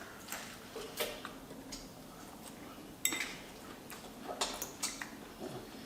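A salad being tossed and mixed in a bowl, with scattered light clicks and clinks of utensils against the dish, irregular and fairly close, with no talking.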